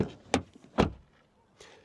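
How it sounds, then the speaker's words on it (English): Kia Sorento SUV doors shutting: two solid, dull thuds close together, followed by a softer third knock, with quiet gaps between them. "door closing sound"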